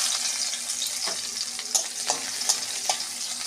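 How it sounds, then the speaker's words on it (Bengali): Whole garlic cloves frying in hot oil in a kadai, a bright continuous sizzle with a few light spatula taps and stirs toward the end, close and alone. "কড়াইতে আগেই তেল ছিল, রসুনটা গোটা ভেজে তুলে নেব"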